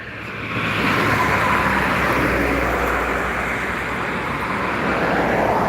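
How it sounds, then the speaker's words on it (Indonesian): Steady roadway roar of buses and trucks rolling past on Jalan Lintas Timur near Palembang, a continuous broadband rumble of heavy traffic holding level for several seconds with no voices. "bus dan truk yang melintas sekitar Palembang"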